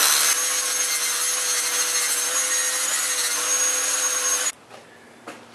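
An older Rockwell Delta flat sandpaper sander runs with a loud, steady, hissing abrasive whir and a faint motor hum, close by, then cuts off abruptly with a couple of small knocks afterward.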